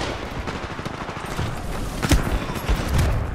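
Gunfire in Titanfall 2 with a shotgun, a few loud, sharp blasts cracking over a dense rumble of in-game combat noise, close and forceful.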